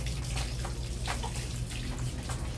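Water runs and splashes steadily near an intake pan. The flow is continuous and fairly loud, with small drips and splashes over a constant low rush.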